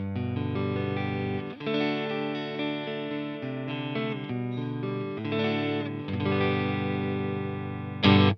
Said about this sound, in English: Here is the clean tone from the Fender Deluxe Reverb.